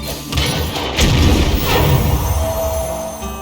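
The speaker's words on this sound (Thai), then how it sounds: "ปืนใหญ่ไปเลย" Cannon fire in the Hearthstone video game: heavy booming blasts and thuds, a couple of strong impacts with crashing debris, loud and close with no talking.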